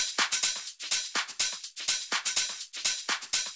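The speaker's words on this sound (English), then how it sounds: "As you can hear, it has a lot going on, a lot of hi-hats." House music top loop packed with hi-hats, a fast busy pattern of crisp, bright percussion ticks and shakers repeating in a steady groove, moderately loud and with no voice over it.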